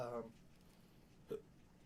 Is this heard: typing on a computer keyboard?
no